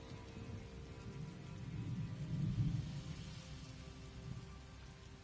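Steady rain falls in Elder Scrolls Online with a low, swelling rumble of thunder peaking midway, the whole scene soft and distant with no voices.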